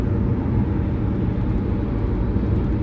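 Hot rod car engine revving in a tunnel, a loud low rumbling roar that stays steady and close throughout, booming with echo and no voices over it.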